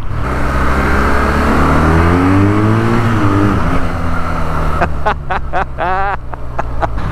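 An updated Euro 5 BMW R nineT motorcycle engine starting and running, a loud close rumbling idle that rises and falls with a few rev changes.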